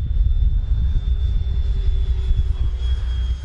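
A Freewing JAS-39 Gripen RC jet plane passing by, its electric ducted fan producing a continuous rushing roar with a thin whine, loud and steady throughout with no voices.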